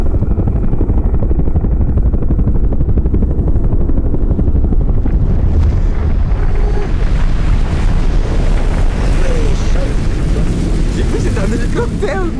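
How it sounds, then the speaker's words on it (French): Helicopter flying near Everest in high mountain terrain, a loud continuous rotor roar mixed with strong wind buffeting on the microphone, with voices briefly audible over it. "Hélicoptère! Non, hélicoptère avalanche!"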